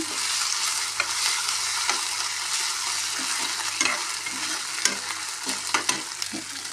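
Onion masala with coriander and mint is stir-fried in a pan for carrot bhaji, a steady sizzle broken by repeated scraping and tapping of a spoon, close and alone.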